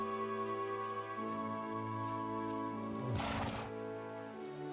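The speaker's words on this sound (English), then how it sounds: "It makes horse noises." A horse in a video game neighs once at about the three-second mark, a brief loud whinny rising over a steady layer of game music and ambience that runs throughout.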